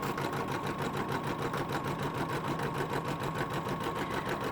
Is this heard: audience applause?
no